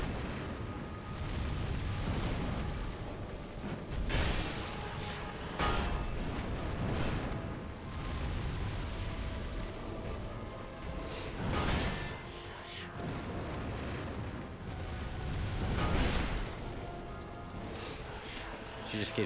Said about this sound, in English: She just keeps dropping these explosions on me.